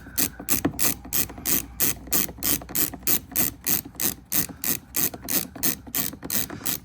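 A ratchet tool backs a T30 screw out of a Tesla Model Y mirror mount, making a close, steady run of rhythmic clicking strokes, about three per second, with no talking.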